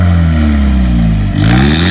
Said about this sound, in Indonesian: Coba kasih geber dikit, tipis aja, Mas.